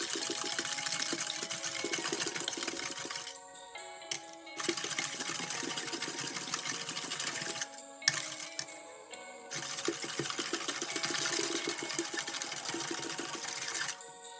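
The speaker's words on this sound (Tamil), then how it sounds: "ஒரு 1/4 கப் சீனியும் ஒரு முட்டையும் கொஞ்சம் உப்பும் சேர்த்து நல்லா அடித்து எடுக்கணும்" Sugar, egg and salt being beaten together for pancake batter: a steady, fast rattling whisk that stops briefly twice, then resumes at the same pace.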